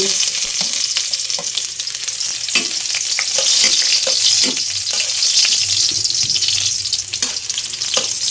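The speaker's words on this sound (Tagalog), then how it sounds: "Ayan, magigisa ko na po yung bawang." Garlic sautés in hot cooking oil, a loud, steady, close sizzle and crackle that fills the whole stretch, with occasional clinks of stirring.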